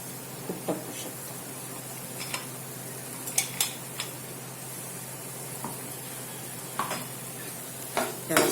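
A spoon stirs ground peanut powder into a simmering peanut curry, making soft, irregular scrapes and taps over a quiet, steady background hiss.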